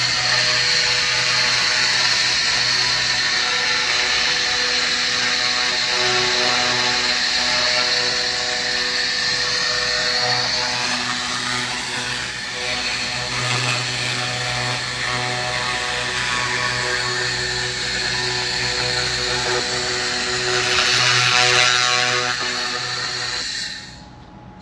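An AKQH-1500 fiber laser cleaner strips rust off metal with a loud, continuous high-pitched whine and hiss that persists throughout, with slight variations as it sweeps across the surface.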